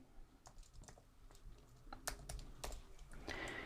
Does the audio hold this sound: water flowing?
no